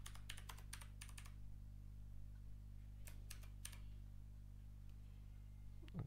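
Computer keyboard typing a password, a few quick bursts of soft, close key clicks over a steady low electrical hum, with a pause between the groups of taps.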